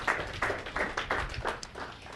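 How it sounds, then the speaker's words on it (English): Audience applauds at the close of a talk on education and democracy, with a dense patter of hands rising in several swells over a couple of seconds, fairly faint and diffuse in the room. "Let's give Ann a round of applause."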